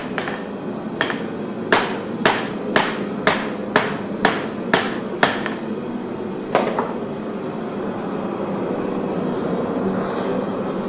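Ringing hammer blows on a knife blade being forged at the spine, about ten evenly spaced sharp strikes followed by a single later hit, over a steady background roar.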